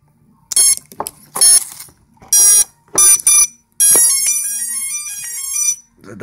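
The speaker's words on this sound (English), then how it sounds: "There's the beeper" A drone's electronic speed controller beeping during calibration with props off, a series of loud, close electronic tones in short bursts followed by a longer descending melody of beeps.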